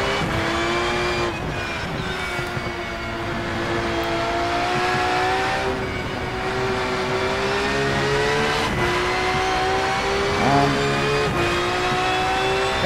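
Porsche GT3 race car in the sim racing game Rennsport at Hockenheim, its engine droning steadily, with pitch rising and falling through gear changes and occasional tire squeal, loud and continuous with no talk.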